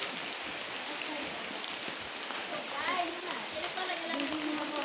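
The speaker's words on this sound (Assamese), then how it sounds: "আপোনালোকে দেখা পাইছে বৰষুণ দি আছে" Rain falling steadily on an open courtyard where water is pooling, a dense continuous patter heard close, with a voice speaking over it now and then.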